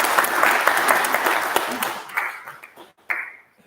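Audience applause in an awards-ceremony hall as a university chair is welcomed to the stage. It is loud and dense at first, then thins into scattered claps and fades away.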